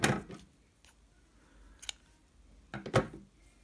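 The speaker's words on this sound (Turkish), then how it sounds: "İpi burada kesiyorum." Scissors snip through crochet yarn, with a crisp close cut at the start followed by a few faint separate snips in a quiet room.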